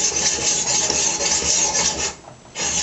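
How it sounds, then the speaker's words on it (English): A blade is drawn across a small oiled Arkansas sharpening stone in steady rasping strokes, close and fairly loud, with a brief pause near the end and no talking. "I've got this itty-bitty little Arkansas stone."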